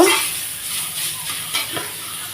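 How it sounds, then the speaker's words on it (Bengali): Shola kochu (taro) pieces are stir-fried in a pan, giving a gentle frying sizzle with a few soft stirring scrapes and clinks, fairly close and with no voice. "কচুটাকে আমি এরকমভাবে ভালোভাবে নাড়াচাড়া করে ভেজে নেব"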